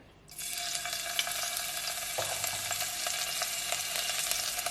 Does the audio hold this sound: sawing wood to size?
no